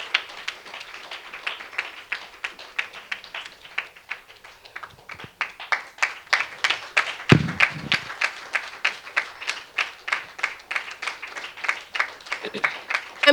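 Audience applause at a graduation ceremony welcoming the chief adviser: dense, sustained clapping from a crowd that builds and continues steadily throughout, fairly close and loud.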